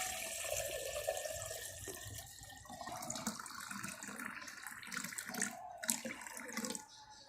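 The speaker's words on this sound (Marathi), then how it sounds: "आता इथं पाणी टाकून घेऊया" Clean water is poured into a kalash pot at home, a steady close splashing and trickling stream that runs for several seconds with no voices.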